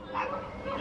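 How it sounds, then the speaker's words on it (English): A dog barks at the neighbour's dogs in a brief, fairly faint yelping bark heard at a distance. "Why is she just barking at next neighbour's dogs and they're just barking back?"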